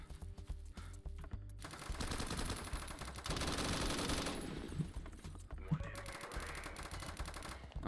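Rapid automatic gunfire in the Roblox shooter BRM5, dense bursts of shots running almost continuously and loudly through the whole stretch with only short pauses.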